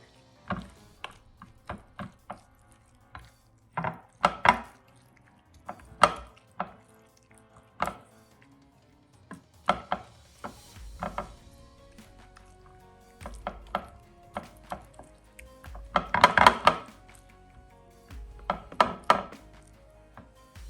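Taco casserole meat and cheese get stirred in a dish, heard as intermittent scraping and clinking of a utensil against the dish, close and fairly quiet, with short pauses between strokes and no talking.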